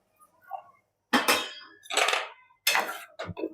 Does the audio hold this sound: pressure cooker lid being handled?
yes